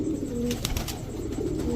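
Soft, low cooing from a pair of Army breed pigeons, a male and a female, repeating murmurs close by amid faint background noise.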